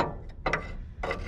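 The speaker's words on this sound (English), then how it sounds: "We're getting this bolt right here, this nut off of here." A wrench works a rusty, non-stainless nut off a trailing arm bolt on a C3 Corvette, producing short, close ratcheting metallic bursts with brief pauses between them.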